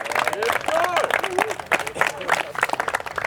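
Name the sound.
applause for a player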